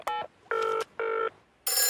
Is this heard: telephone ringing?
yes